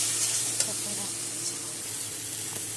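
Melon seed paste, green chillies and spices sauté together in white oil for a bhindi dish, a faint, steady sizzle with a few light stirring taps.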